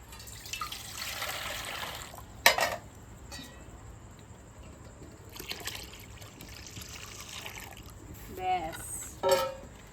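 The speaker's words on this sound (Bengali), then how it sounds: "তুই জল দিয়ে দাও জায়গাটার ভিতরে" Water is poured in two gushing bursts in a home kitchen while lachha is being made, with faint voices and a few small clinks in the background.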